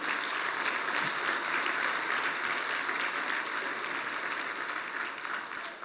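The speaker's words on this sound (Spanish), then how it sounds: "le damos un aplauso a Él." Church congregation applauding during a Spanish-language sermon, a dense, sustained wash of clapping from a large crowd that holds steady throughout without pause.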